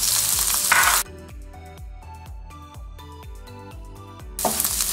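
Bacon egg scramble with vegetables just added sizzles in a pan, a bright steady hiss at the start and again at the end, with a stretch of melodic music in between.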